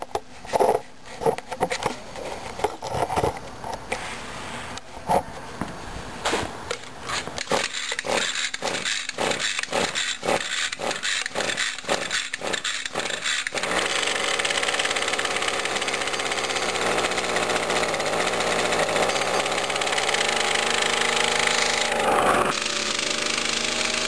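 A weed whacker on a cold start gives a run of sharp pull and rattle noises, then its small two-stroke engine catches and holds a steady, loud, buzzing idle close by.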